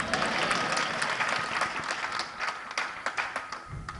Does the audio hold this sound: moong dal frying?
no